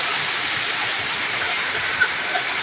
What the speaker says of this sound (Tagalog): Well, guys, heavy rain here